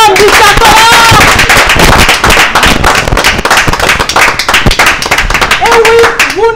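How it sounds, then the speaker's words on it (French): An audience in a TV studio claps in dense, loud applause throughout, with a presenter's voice cutting in at the start and end. "ces applaudissements avec les mines serrées"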